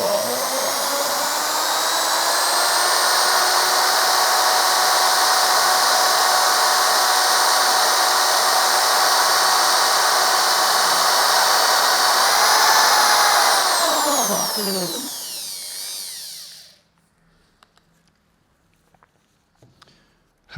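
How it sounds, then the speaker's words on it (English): A high shear mixer whirs loudly and steadily at high speed as it mixes resin for glass lamination, its pitch sweeping down as it slows and stops, followed by faint handling clicks. "So I'm going to go quite high on the shear speed, just to get rid of all those little lumps and clumps."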